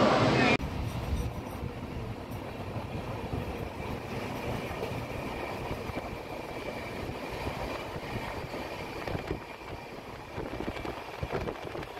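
A train rumbling along the tracks toward Santiniketan with a steady, continuous roar and occasional rattling clatter, heard from inside.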